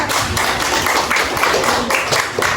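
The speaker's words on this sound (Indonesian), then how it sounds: "beri tepuk tangan untuk Mbak Nia" Applause in a combined-grade primary classroom as pupils clap for a classmate, a dense steady patter of many hands sustained for a couple of seconds without talk.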